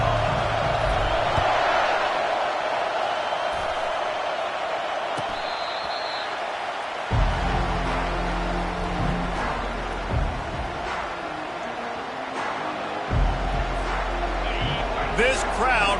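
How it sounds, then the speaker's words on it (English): Huge stadium crowd at an LSU college football game roars steadily through the opening kickoff, a dense, loud wash of cheering with deep swells and a commentator talking over it. "This crowd bringing an ear-splitting welcome to their visitors."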